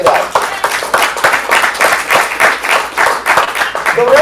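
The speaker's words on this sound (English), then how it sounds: "Give yourselves a round of applause." An improv comedy audience applauding, a dense burst of many hands clapping in a room, loud and sustained throughout with voices mixed in.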